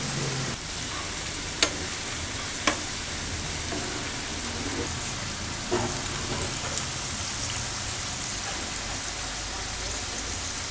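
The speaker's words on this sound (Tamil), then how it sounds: "இப்போ ஒரு உருண்டைகளாக எடுத்து அதில் எண்ணெயில் போட்டுடலாம்." Cabbage manchurian balls deep frying in oil over a low flame, a dense, even hiss of bubbling oil with a few faint sharp clicks and pops, steady and uninterrupted.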